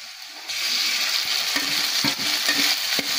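Potatoes and onions fry in hot oil with a steady, bright sizzle as ground spice paste is added and stirred in, a spoon scraping and knocking against the pan in irregular strokes, close up with no talk.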